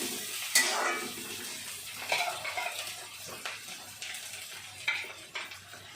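Onion fries in oil with coriander in a pan, giving a soft, quiet sizzle broken by a few sharp scrapes and clinks of a utensil stirring.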